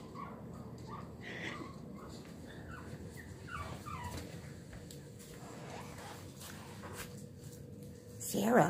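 Shih Tzu puppies whimper and yip in short, high, thin bursts scattered through the clip, fairly close, over a steady background of household murmur and faint voices, with a louder clatter at the very end.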